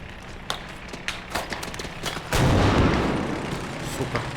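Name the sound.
sniper rifle gunshot in video game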